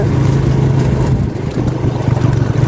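A motorcycle ridden in second gear over rough, rocky extreme off-road trail at Pandrimalai, engine droning steadily and loudly with wind buffeting the microphone and a brief dip midway.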